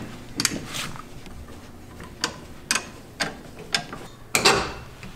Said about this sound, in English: And you're gonna come back here, jack it up.